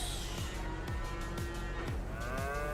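Cows moo in a farming video game over a steady background hum, several low drawn-out calls with a slightly synthetic, game-like quality.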